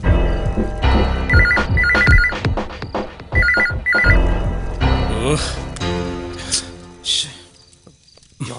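A telephone bell rings in repeated double bursts, going unanswered in a Malayalam action film scene; the rings sound moderately loud, with voices and music-like sounds around them and the ringing dropping out toward the end.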